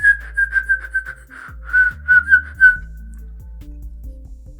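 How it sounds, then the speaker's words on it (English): A person whistles a quick series of short, bright, clear notes in a choppy rhythm, close and loud, then stops while a low, steady sound carries on beneath. "today we'll go over the outward whistles, the inward whistles"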